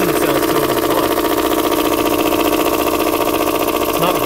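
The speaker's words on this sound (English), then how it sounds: "The engine sounds totally fine." A Mazda Protege5 engine idles steadily at close range with an even, droning hum and a faint continuous whine on top. The sound carries no speech and does not change over the few seconds.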